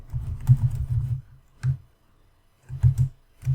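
Python code typed on a computer keyboard, close clusters of soft key clicks in quick bursts separated by short pauses, with no talk.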